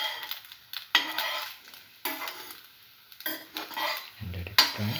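Soy chunk tomato French toast soaked in egg mixture is pushed around a frying pan, with scraping and clinking of a utensil against the pan in several bursts over a faint sizzle.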